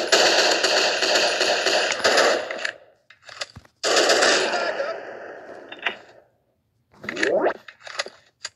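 Rapid bursts of gunfire from a mobile shooter video game, loud and close, with long rattling volleys that pause, resume, then break into shorter clusters of shots and mechanical clicks.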